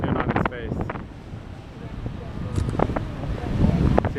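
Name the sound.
strong wind blowing on the coast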